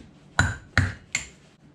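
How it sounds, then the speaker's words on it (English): Three sharp metallic hammer strikes on a brass punch, evenly spaced and close, knocking an old ring gear off a 14 bolt axle carrier, each ringing briefly before fading. "I'm gonna use a nice little brass punch just so I don't mess up the ring gear."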